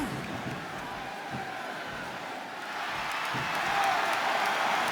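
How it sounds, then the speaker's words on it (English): A capacity wrestling arena crowd roars in a steady wash of cheering and applause that swells slightly louder toward the end. "This capacity crowd is making their opinions known tonight."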